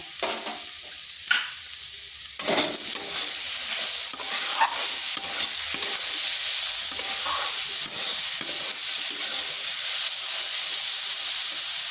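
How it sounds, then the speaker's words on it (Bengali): Onion and salt frying in a pan for a crispy snack, with a steady close sizzle and hiss broken by repeated scraping strokes of stirring. "এরপর পেঁয়াজটা দিয়ে দিচ্ছি আর দিচ্ছি পরিমাণ মতো লবণ।"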